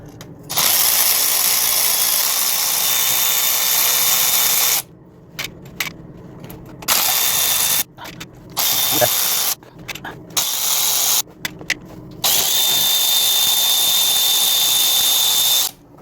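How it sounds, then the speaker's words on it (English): A ratchet wrench loosens bolts on the transmission pan of a Ram 3500 pickup in a series of loud, close clicking bursts separated by short pauses, with quiet clinks and handling between them. "I'm just going to loosen off these two just a bit"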